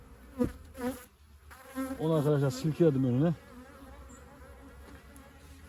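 A steady insect-like buzz of many Buckfast honeybees at a hive hums throughout, with a person speaking briefly over it midway.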